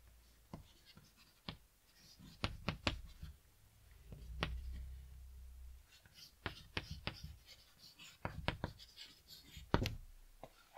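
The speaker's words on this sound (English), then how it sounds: "let me write a sentence here for you" Pen or chalk writing a sentence by hand during an English grammar lesson, with a run of short, crisp scratching strokes and taps repeating close up, brief pauses between words, and no talk over it.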